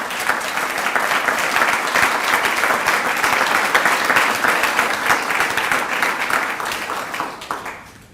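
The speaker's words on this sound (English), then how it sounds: "let's give just one more round of applause to the men and women who keep us safe every day" Sustained applause from a civic gathering audience honoring public safety staff at a village address, dense steady clapping that holds for several seconds before tapering off near the end.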